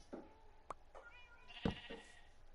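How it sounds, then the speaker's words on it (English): A baby pink sheep in Minecraft gives short bleats and clicks, a few quick nasal calls spaced apart, soft and near with faint background noise. "Naturally spawning baby pink sheep."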